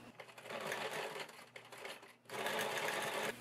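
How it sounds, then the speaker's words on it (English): A sewing machine top-stitches the strap of a child's fabric beach bag, a fast, loud mechanical whirr in two runs separated by a short pause. "this time I'm going to sew it from the outside, because what I want to do is I want to make sure that I catch the fabric"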